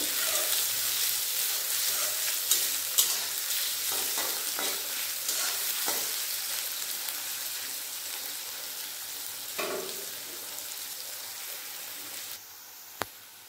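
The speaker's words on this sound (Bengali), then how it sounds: "তেলের মধ্যে দিয়ে দেবো কুচনো পেঁয়াজ, একটা পেঁয়াজ ভালোভাবে কুচিয়ে নিয়েছি। পেঁয়াজ লাল লাল করে ভেজে নেব।" Chopped onion frying in oil for a Bengali mustard rohu dish, a steady close sizzle with a few sharp clicks of stirring scattered through, no voices.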